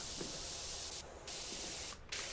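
A pressure washer in PowerWash Simulator 2 sprays a steady, loud hiss of water that cuts out briefly twice before resuming, with no voices.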